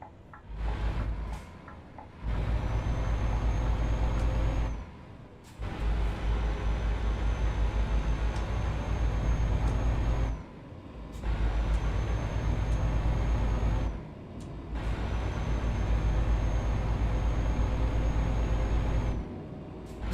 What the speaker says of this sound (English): Truck sounds so funny.